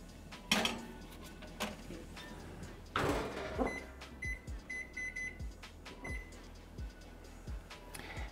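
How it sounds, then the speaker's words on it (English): Baking trays of seasoned cauliflower for vegan tacos go back into a kitchen oven: sharp metallic clatters and thumps from the pans and door, followed by a run of short electronic beeps, all close and fairly quiet. "I'm just gonna put them back in the oven for 20 more minutes."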